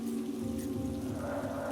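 Steady pouring rain falls in a continuous, even hiss with a low rumbling undertone, moderately quiet and unbroken throughout, with no voices.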